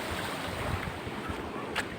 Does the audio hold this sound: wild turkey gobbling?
no